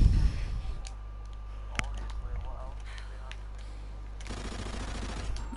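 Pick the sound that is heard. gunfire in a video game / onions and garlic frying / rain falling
gunfire in a video game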